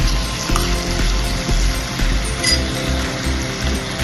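Diced potatoes frying in oil with mutton for a Bengali mutton kosha, giving a steady, close sizzle with soft bubbling and occasional clinks of a utensil. No one speaks.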